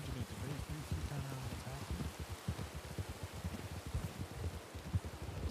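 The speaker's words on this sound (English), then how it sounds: "it's really hard to hear you over this rain" Heavy rain pours steadily in the video game Red Dead Redemption 2 (RedM), a continuous hiss of drops on surfaces with some faint low rumbling, with no talk over it.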